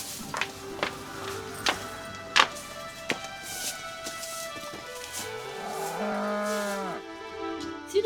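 A cow lows in a rural Nepali homestead, a long low moo rising out of background sounds, with sharp intermittent clicks and knocks around it.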